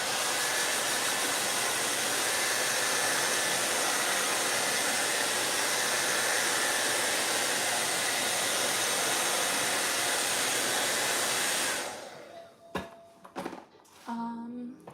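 A hair dryer blows on fresh paint, a loud, even whoosh running steadily for about twelve seconds before it cuts off abruptly, leaving a few soft handling clicks and knocks.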